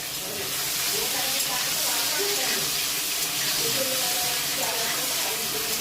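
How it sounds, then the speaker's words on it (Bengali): Prawns fry in hot oil in a kadai for a Bengali prawn malai curry, giving a steady, loud, dense hiss and crackle that runs continuously without a break. "আমি চিংড়ি মাছ না লাল লাল করে ভেজে নিচ্ছি"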